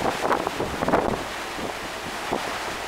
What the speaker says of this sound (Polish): Tutaj widzimy, jak tutaj szaleje torm, wiatr.